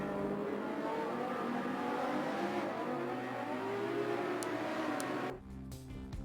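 Race cars, Audis and a Porsche, roar through a GT racing game, a steady droning engine note with rising and falling revs before the sound cuts off near the end.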